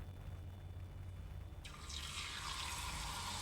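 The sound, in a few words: battered prawns and vegetables deep frying in oil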